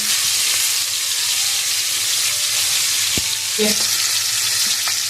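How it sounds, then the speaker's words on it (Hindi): Fish pieces shallow-fry on a flat tawa with a steady close hiss and sizzle, dhaba style, with a few faint clicks from handling partway through. "करीब 2 मिनट हमने एक साइड से मछली को फ्राई किया"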